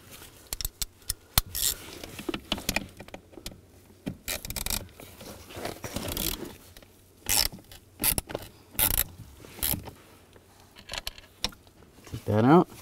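A T30 socket on a ratchet works the screws holding the accelerator pedal assembly of a 2007-2013 Chevrolet Silverado, giving close, rapid bursts of ratcheting clicks in repeated runs with short pauses between them.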